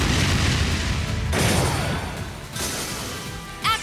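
A flare bomb goes off in the video game Trails of Cold Steel 2, giving a loud booming blast that rolls through several crashing surges over a few seconds, closing with a brief bright swish.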